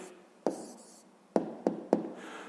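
A pen taps and scratches on paper while an answer is written down in a quiet room, four sharp, separate contacts with faint scratching between them.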